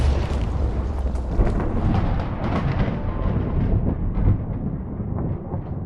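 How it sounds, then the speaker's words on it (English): Deep rolling video game thunder as lightning strikes towers, a run of heavy booms and crackling rumbles that swell and fade over several seconds, loud and alone with no talk. "I do love that thunder noise"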